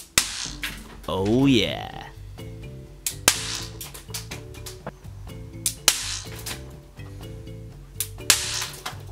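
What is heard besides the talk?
bang snaps (fun snaps) being fired off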